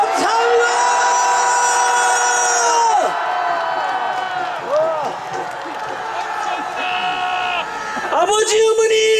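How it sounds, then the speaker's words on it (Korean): Crowd at a political rally against a presidential impeachment cheering and shouting loudly, a dense roar of voices and whoops with whistles, easing midway and surging again at the end. "함성 한번 질러주십시오."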